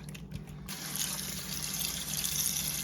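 Water runs and trickles into a bowl of sliced potatoes being rinsed, a quiet splashing start that settles into a steady, fairly close pour, with no voices.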